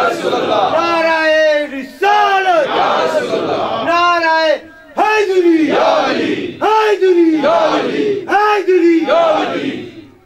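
A crowd at a devotional mehfil during Rabi ul Awwal chants religious slogans loudly in call-and-response bursts, with several strong shouted phrases separated by brief pauses.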